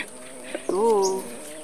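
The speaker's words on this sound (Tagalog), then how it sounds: "May nakalabas ng manok dun, oh." A loose chicken in a garden calls once with a short, rising and wavering tonal cluck, close and fairly clear, with faint background noise and no talk during the sound.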